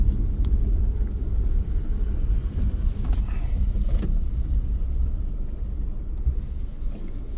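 A Mahindra XUV car sits idling nearby, giving a steady low engine rumble with a faint whine above it, constant and fairly loud throughout.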